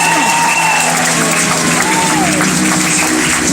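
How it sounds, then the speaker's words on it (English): A rodeo crowd in the grandstand at the Tioga County, New York fair applauds and cheers loudly for cowgirl breakaway ropers, a constant roar of clapping with whoops and a few voices rising above it. "how about you give all those breakaway ropes a great big round of applause?"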